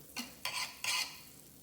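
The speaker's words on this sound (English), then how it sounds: "you butter your skillet." Butter sizzling in an old skillet before pancakes are cooked, heard as three short hissing bursts close up with quiet gaps between, and no talking.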